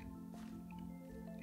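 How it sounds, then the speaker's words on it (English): Water poured from a bucket in the Minecraft video game, placed beside a water wheel: a soft squishy splash and dripping over a steady droning background hum, with no talking. "now if we put a bucket of water"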